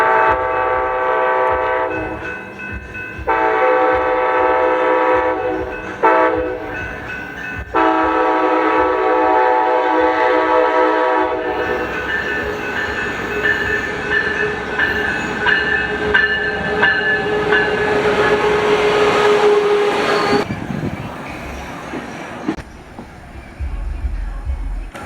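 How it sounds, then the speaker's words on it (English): Coaster commuter train led by SC44 Charger locomotive 5002 arriving at Carlsbad Village station, its horn sounding in repeated long blasts over the steady rumble of the approaching engine. "Coaster 685 would arrive into Carlsbad Village with SC44 Charger 5002 leading."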